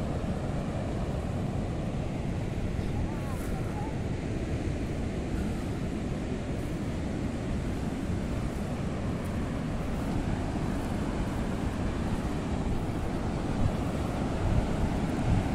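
Ocean surf and wind along the beachfront at Tramandaí, a continuous broad rushing roar of breaking waves mixed with gusty wind buffeting the microphone, steady and fairly loud throughout with no voices.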